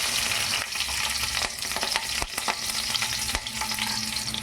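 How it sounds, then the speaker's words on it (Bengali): Black cumin seeds and three green chilies sizzle steadily in hot oil in a pan, a continuous crackling fry with a few sharper pops and stirring clicks, close and loud, with no talk. "আমি তেল দিয়ে গরম করে নিয়েছি। দিয়ে দিব কালো জিরা, দিয়ে দিব 3টি কাঁচা লঙ্কা"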